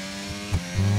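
Engine note of an F1 car fitted with an Alpine power unit in the F1 22 racing game, a steady buzzing drone that rises into a louder, sustained pitch near the end, heard alone.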